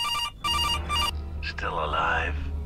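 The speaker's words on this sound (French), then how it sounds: "Il faut que je réponde au téléphone." A telephone rings twice in a video game set in a police station, each ring a loud, bright electronic trill, followed by voices and game sounds.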